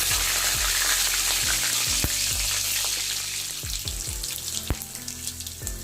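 Mustard seeds and green chillies sizzling in hot oil for a cauliflower and onion leaves dish, a loud continuous crackle with scattered pops and stirring clinks that ease slightly toward the end, no voices.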